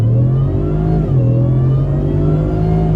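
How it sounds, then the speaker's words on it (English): A supercharged 2021 Hennessy Venom 775 F-150 pickup in four-wheel drive high pulls hard off the line, its engine roaring loud and steady with a brief dip as it shifts before climbing again. "You barely touch it, you can start to hear that supercharger begin spooling up."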